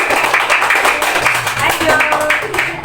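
Group clapping in a school classroom during a planet lesson: fast, dense, continuous hand claps mixed with children's voices and chatter throughout.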